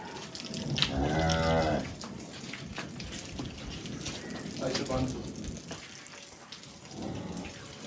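A Gir cow mooing loudly and close, one long low moo early on, then a couple of shorter moos later, with faint running water in the background.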